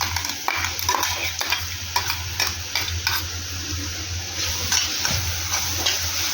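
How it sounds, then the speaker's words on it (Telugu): A ginger, garlic and green chilli paste fries with onions for a mushroom pepper fry, giving a steady close sizzle with repeated stirring scrapes and light utensil clinks against the pan, and no voices. "ఇదంతా కూడా పచ్చివాసన పోయేంత వరకు కొద్దిగా ఫ్రై చేసుకుందాం."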